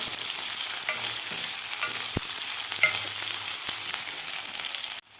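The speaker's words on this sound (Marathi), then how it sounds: "कांदासुद्धा आपल्याला दोन मिनिट व्यवस्थित परतून घ्यायचा आहे" Sliced onion sautés in a pan with ginger garlic paste, giving a steady close sizzle with occasional utensil taps and scrapes that cuts off abruptly near the end.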